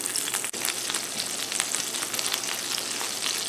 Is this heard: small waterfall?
no